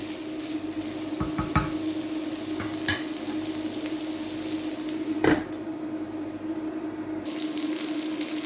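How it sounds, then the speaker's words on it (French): Carrots and bell pepper cooking gently in a pan, with a soft steady hiss punctuated by a few stirring scrapes and knocks. "vous ajoutez un poivron et vous continuez"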